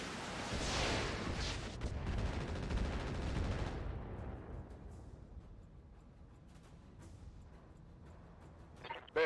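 Mech weapons fire together in the video game Roguetech, a dense, roaring barrage of overlapping cannon and missile blasts for about four seconds, then fading into a low rumble with a sharp crack at the very end.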